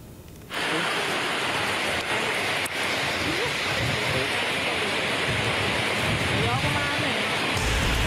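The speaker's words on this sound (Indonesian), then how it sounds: "hujan deras bercampur angin kencang" Dense, steady roar of heavy rain with gusting strong wind during a storm in Mojokerto, broadband and continuous, starting abruptly after a brief quieter moment and holding loud throughout.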